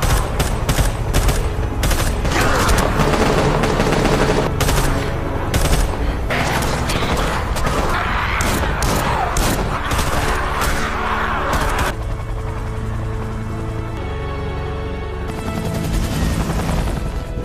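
Loud bursts of rapid gunfire and heavy helicopter rotor thudding in a zombie survival film, the shots crackling in dense volleys over a continuous mechanical drone that carries on after the firing eases.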